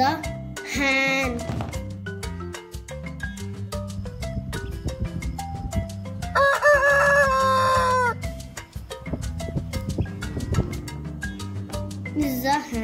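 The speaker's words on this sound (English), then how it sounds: "This is a hen." A toy farm animal plays a hen's clucking and crowing call among other farmyard sounds set to cheerful music, fairly loud and clear.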